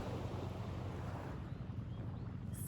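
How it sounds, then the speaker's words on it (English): Ocean waves rolling onto the shore at Koh Samui, Thailand, a steady low surf wash with some wind rumble, close and continuous, heard alone. "You might even begin to move with the flow of the waves that you can hear behind me this evening."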